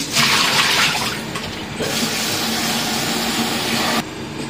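Water sloshes and splashes steadily as mudfish (dalag) are rinsed in a basin for sinigang, a dense close-up wash with a brief dip midway and a drop near the end.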